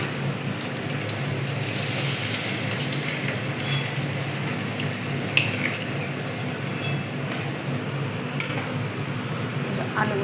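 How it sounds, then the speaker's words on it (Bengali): Potatoes fry in a pan after fish, giving a steady close sizzle and crackle throughout, with a few soft utensil scrapes and clinks from stirring. "আলুগুলো ভাজা হচ্ছে।"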